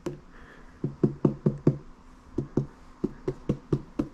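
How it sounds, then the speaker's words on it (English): Knuckles rap on a whole watermelon to judge its ripeness, making about fifteen close, dull, hollow knocks. They come in two quick bursts separated by a short pause, with no talking. "knock on it with your knuckles a little bit"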